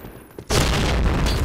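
A grenade goes off in the online shooter Point Blank, a sudden loud close blast that cuts in after a brief quiet moment and rumbles on to the end.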